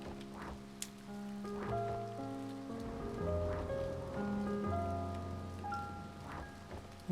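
Steady rain patters in the video game Finding Paradise, a soft continuous hiss beneath gentle sustained musical notes.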